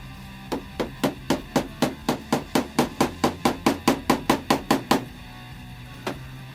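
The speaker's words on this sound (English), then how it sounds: "so I'm going to take a chisel, an old chisel." An old chisel struck repeatedly with a hammer to seat a heat treat oven heating element: about eighteen sharp, evenly spaced metallic blows in a quick steady rhythm, close and loud, then one last isolated strike after a short pause.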